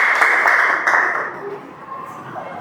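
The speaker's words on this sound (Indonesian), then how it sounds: "Tepuk tangan." Students in a classroom clap together at a teacher's prompt, a short burst of applause that fades toward the end, with some voices mixed in.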